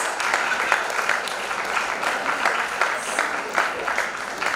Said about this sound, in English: audience, keep clapping for the awardees